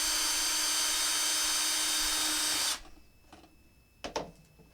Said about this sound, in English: I am actually going to use my drill and sink a hole into this back plastic membrane or support bracket.